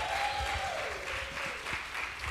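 Concert audience applauding an ensemble at a Sabbath evening performance, a steady wash of clapping throughout with a faint sustained tone fading beneath it.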